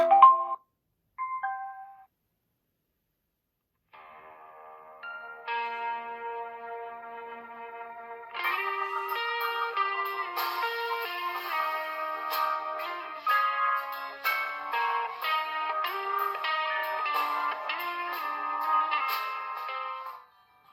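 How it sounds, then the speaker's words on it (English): A G63 smart light sound machine's built-in speaker plays music streamed over Bluetooth, thin and without bass. A few bell-like notes come first, then steady melodic music carries on to the end with no talking. "let's connect it to Bluetooth and listen this music coming from the speaker itself"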